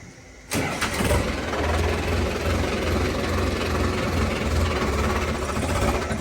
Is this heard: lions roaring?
no